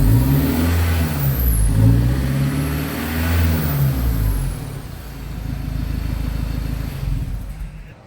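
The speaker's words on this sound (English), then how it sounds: "would you like to have a bit of a listen to it after it's had a few revs?" Car engine revving through a budget 3-inch exhaust, a loud, close, deep drone rising and falling over several long revs.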